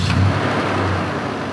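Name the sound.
1996 Toyota pickup truck V8 engine starting up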